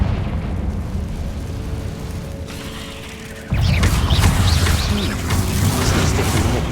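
A Confringo blasting spell in Hogwarts Legacy bursts against a barricade, a sudden loud broadband blast that cuts in over a low ambient game hum and rolls into a lingering crackling, rumbling debris tail.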